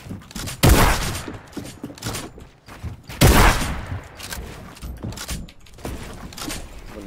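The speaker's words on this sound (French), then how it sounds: "Il y a des gens qui tirent de loin." Distant gunfire from other players in a shooter video game: two loud bursts of shots a few seconds apart, with scattered smaller pops and mechanical clatter in between and no talking.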